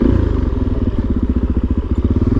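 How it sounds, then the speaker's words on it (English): A Suzuki DRZ motorcycle rides along with a close, loud, pulsing single-cylinder thump, a rapid even beat throbbing continuously throughout. "you take the motorcycle and it turns a chore into a fun time, which is exactly what we're having right now"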